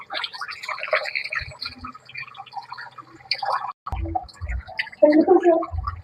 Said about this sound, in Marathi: चला आपण स्वच्छ हे मटण आहे आपण धुवून घेऊ